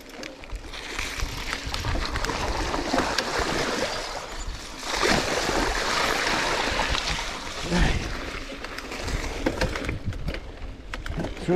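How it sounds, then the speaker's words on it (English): A gravel bicycle rides through a deep creek crossing, with continuous loud splashing and rushing water throughout, close up and without pause. "Certainly had a good test with the creek crossings."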